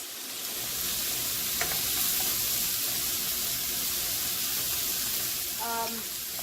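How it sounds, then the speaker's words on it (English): Chopped-meat filling for stuffed hamburgers sizzles steadily as it cooks down in a pan, a continuous close hiss and crackle with faint stirring and a brief voice near the end. "I'm going to cook it down a little bit"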